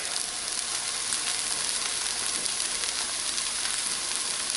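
Eggs frying in a pan for fried rice give a steady, loud, close sizzle with a crackling hiss that holds evenly throughout, with no talking.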